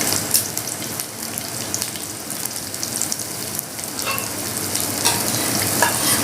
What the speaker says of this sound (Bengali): সরিষার তেল নিয়ে এর মধ্যে আমি দিয়ে দিচ্ছি পেঁয়াজ